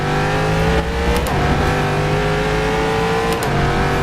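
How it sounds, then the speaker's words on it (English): A Corvette C7.R GTE race car engine in rFactor 2 at Sebring roars loud and close, a steady, meaty drone that rises and dips as the revs shift, with no talking. "How good does the Corvette sound? It's angry, meaty."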